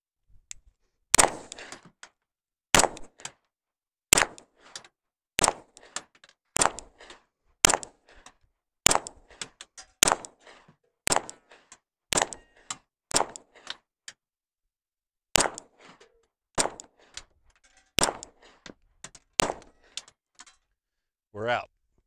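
A Beretta 92 FS 9mm pistol fired in a steady string of sharp, loud single shots about a second apart, with a brief pause partway through before the shooting resumes.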